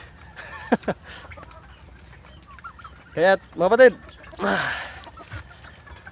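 Pet turkeys on an azolla farm give short clucks and a few louder bursts of calling, close by, with someone talking between and over them.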